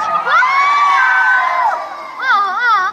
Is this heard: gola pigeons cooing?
no